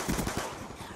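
Rapid pistol fire in Call of Duty Black Ops 2, a quick cluster of sharp shots close together, loud and up front over busy in-game background noise.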